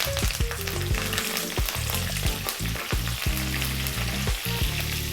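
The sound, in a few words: curry leaves sizzling as they're dropped into hot oil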